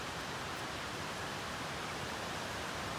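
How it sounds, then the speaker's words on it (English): A river flows steadily beside a campground in a backpacking area along the West Fork Dosewallips River, a constant broadband rushing wash of water with no pauses, fairly close and even throughout. "Some nice white river noise."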